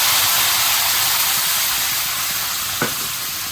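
A spice mix is poured into a hot pan for a paneer dish, and the frying gives a loud, steady sizzle and hiss with one brief clink near the end.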